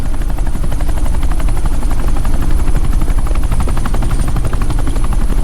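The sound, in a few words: helicopter flying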